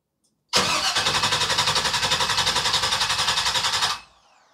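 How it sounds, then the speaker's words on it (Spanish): Car engine with a no-start fault cranking on the starter in a steady rapid chugging rhythm, loud and close, for about three and a half seconds before stopping, with no speech. "ahorita le doy cranky vamos a ver si hay RPM"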